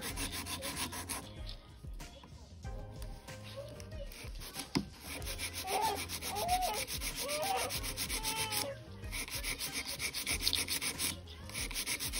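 Continuous rasping strokes of a file on the underside of an acrylic nail, close and fairly loud, in a steady back-and-forth rhythm with brief pauses.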